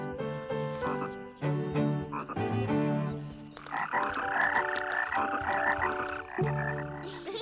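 Cartoon voices imitate frogs with a steady run of loud, close 'ribbit' and croak calls in the Little Bear children's animation, one after another with no pause.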